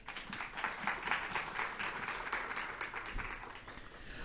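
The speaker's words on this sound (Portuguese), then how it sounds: "Uma salva de palmas." A small audience at a book launch talk gives a round of applause, with dense, steady clapping at moderate level that holds for about four seconds, and no voices over it.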